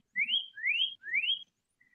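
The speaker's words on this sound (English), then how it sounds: "I love the sound of that bird." A bird sings three bright, rising whistled notes in a steady, evenly spaced sequence, fairly close and clear, with a brief softer fourth note at the end over a quiet background.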